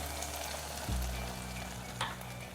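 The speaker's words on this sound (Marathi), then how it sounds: "थोड्याशा भाज्या आपल्या तळलेल्या आहेत, जास्त पण तळायचं नाही." Vegetables for veg Manchurian frying in a pan, a steady soft sizzle that gets a louder burst midway, with a brief stir clink later; no talking.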